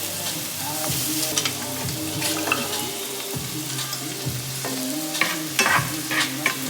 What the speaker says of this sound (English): So you're gonna mix it all up.